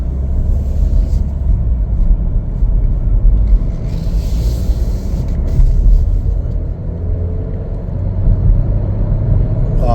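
A 2024 Chevrolet Equinox AWD LS on a test drive, with a steady low road rumble and engine hum from inside the cabin that holds evenly throughout, with no talking.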